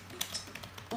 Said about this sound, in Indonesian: begitu cara saya mengetik teman-teman